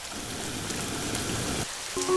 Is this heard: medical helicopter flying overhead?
no